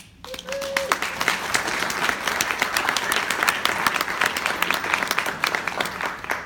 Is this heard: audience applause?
yes